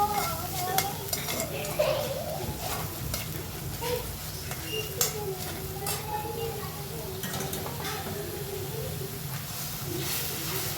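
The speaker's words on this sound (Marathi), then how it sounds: "पाणी टाकायचं आणि थोडीशी उकळी द्यायची" Shev bhaji, a spiced gram-flour noodle curry, cooking in a pan after a little water is added: a continuous soft hiss and bubbling sizzle with occasional stirring clinks, close and moderately loud, with faint background voices.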